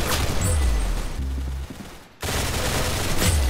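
Gunfire in Roblox Arsenal, dense loud bursts of shots that break off briefly and then resume, close and harsh, with no talking.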